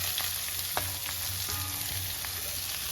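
Onion frying in hot oil with browned ginger and garlic for a Kerala-style egg roast, a steady close sizzle with a few light stirring clinks and scrapes, no voices.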